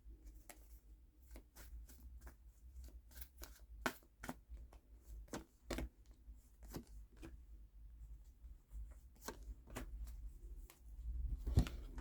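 Tarot cards being shuffled, a steady run of crisp riffling snaps and flicks repeating across the whole stretch at close range, with no voice over them.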